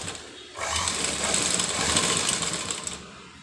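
A sewing machine running steadily while stitching piping onto a blouse neckline, a continuous close whirring hum that starts after a short pause and holds for about three seconds.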